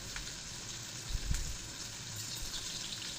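Hot oil sizzles in a pan, readied for tempering dal, a soft continuous crackle and hiss with a brief louder pop in the middle.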